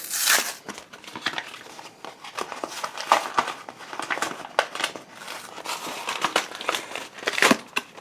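Stiff plastic blister packaging for a Pokemon Phantom Forces booster set is crinkled, crushed and torn open by hand, with close, continuous crackling and sharp snaps and no talking.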